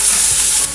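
Turmeric and red chili powder being stirred into frying onions in a pan for malai kofta, a short continuous sizzling hiss with scraping, close and loud, cutting off abruptly near the end.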